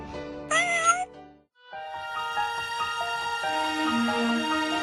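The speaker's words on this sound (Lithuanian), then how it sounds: "Katinas su sparniukais." A cat meows twice, a short close mew followed by a longer drawn-out meowing call, loud and clear with no talking.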